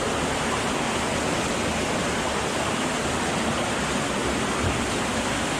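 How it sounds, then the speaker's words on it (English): Water from a waterfall inside a cave rushes continuously in an even, full hiss with no breaks, close by and steady throughout, with no voices over it. "Wow, we made it to the second waterfall."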